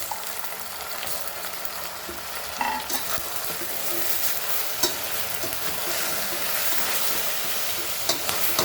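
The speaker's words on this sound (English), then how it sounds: "Fry this nicely." Chicken and tomatoes fry in a pan for Goan bafat curry, a loud, busy sizzle with repeated stirring scrapes and spoon knocks throughout, no talking.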